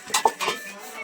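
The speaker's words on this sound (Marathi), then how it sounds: "बिचाराला भांडी घासायला ठेवली र" Pots and dishes being scrubbed and washed, a couple of brief metallic clinks and clatters close by, short and sharp against a quiet background.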